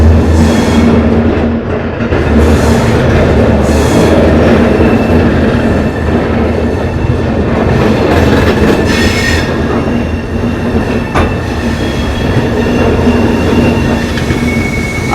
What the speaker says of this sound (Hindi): और ट्रेन हम लोगों की निकल चुकी है।